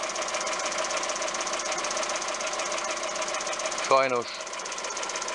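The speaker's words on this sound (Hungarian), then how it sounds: "a himbáknak van hangjuk, most már a tőkék csöndesek" A Volkswagen Golf 1.4 16V engine with over 300,000 km runs steadily with a fast, even rocker-arm ticking close up; a person speaks briefly partway through over the running engine.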